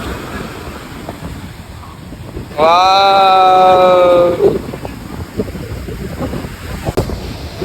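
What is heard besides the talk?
sea waves washing onto the beach at Diu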